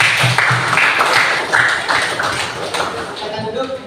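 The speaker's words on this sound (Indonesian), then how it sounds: "Kita beri aplaus kepada kelompok 1." Applause for a student group in a classroom, a short burst of scattered claps and taps up close, mixed with someone speaking over it before fading out.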